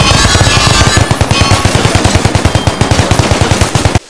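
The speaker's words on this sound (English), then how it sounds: "this is another belt-fed machine gun" Belt-fed machine gun from the BlockFront WW2 Minecraft mod firing a long sustained burst, loud close-up rapid rhythmic shots, about ten per second, ending abruptly after roughly four seconds.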